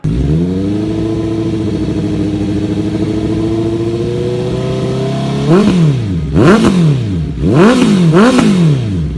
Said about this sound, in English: let's take a listen at the people's 4-cylinder sound.